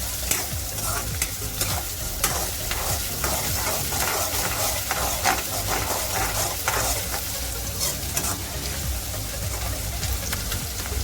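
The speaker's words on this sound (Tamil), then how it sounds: "கொஞ்சம் நல்லா வதக்கணும்." Sliced onions with salt sautéing in a hot pan for a South Indian ridged gourd and potato dish: a continuous close sizzle broken by repeated scraping stirs, with no voices.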